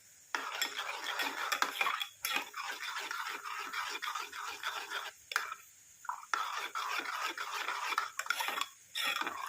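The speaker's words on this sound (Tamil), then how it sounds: "கொஞ்ச நேரம் நல்லா இந்த மாதிரி மிக்ஸ் பண்ணி விட்டுக்கலாம்." A homemade mango face cream mixture being stirred in a vessel, with a spoon scraping rhythmically in quick repeated strokes, close and clear, and short pauses between runs.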